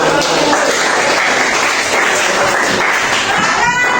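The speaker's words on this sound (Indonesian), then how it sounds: "Tepuk tangan untuk kelompok 4." Students in a classroom clap for a group, a dense, steady burst of applause heard close and loud throughout.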